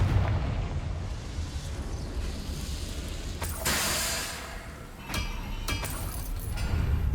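A Confringo blasting spell explodes in Hogwarts Legacy, heard as a booming blast over low rumble, followed by a few sharp bursts and pops against a steady game backdrop.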